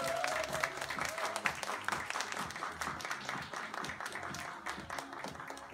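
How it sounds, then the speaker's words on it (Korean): A lecture audience in Incheon applauds to welcome a speaker, dense steady clapping filling the room for several seconds with a few faint voices underneath. "큰 박수로 환영해 주시면 감사하겠습니다"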